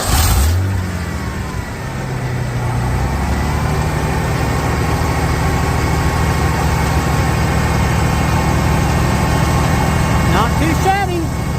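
Ford Bronco engine being restored, idling after its timing was set, a loud steady rumble close by that settles into an even idle after a brief rev at the start, with people talking over it.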